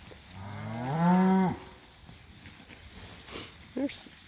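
Cattle on a farm moo loudly in one long, rising and falling call during a mob move, followed by quieter field noise and a brief fainter low call near the end.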